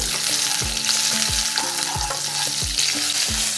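Asafoetida and chopped green chillies sizzle steadily in hot oil in a pan while being stirred, a continuous close-up fry with repeated stirring scrapes and a tonal melody running underneath.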